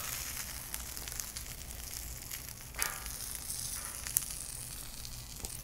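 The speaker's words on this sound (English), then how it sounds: "Now we're going to drop those awesome tuna steaks on there." Tuna steaks searing in avocado oil on a griddle, a constant soft crackling sizzle with occasional small pops and a brief scrape, fairly quiet and steady throughout with no speech.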